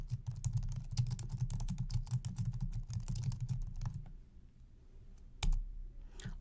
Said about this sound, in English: Type in the search box, Johnson Center meeting room.